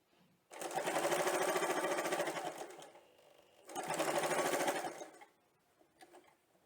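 A sewing machine runs in two steady bursts of rapid stitching as it sews a zip onto fabric, loud and close, with a short pause between runs and a faint tail at the end.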